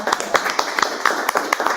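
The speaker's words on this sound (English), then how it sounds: "Let's clap for the recyclers." Audience clapping for recyclers at a gathering, a run of distinct hand claps at an uneven rhythm, fairly close and moderately loud, with voices murmuring underneath.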